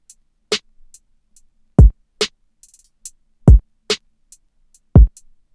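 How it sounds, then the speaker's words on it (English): Kick drum from an FL Studio trapsoul beat: three deep, booming hits with a falling pitch, spaced apart within a sparse groove of snare cracks and light hi-hat ticks. "and then the kick,"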